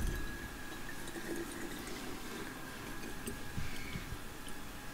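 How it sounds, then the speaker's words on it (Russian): Purified water pouring steadily into a bottle, a continuous gurgling trickle with a faint rising tone, close and moderately quiet, no talking. "И ее заливаю очищенной водой."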